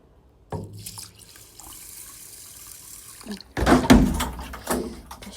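Tap water runs into a cooking pot while rice is being prepared, a soft steady trickle that swells into a louder, fuller gush and splash partway through, with a few clunks of the pot, close by.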